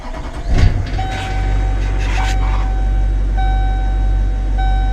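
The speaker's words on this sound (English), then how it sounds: "turn your engine back off and start it again." GMC C5500 truck engine cranks and catches at the start, then settles into a steady low idle with a recurring chime beeping over it, close and fairly loud.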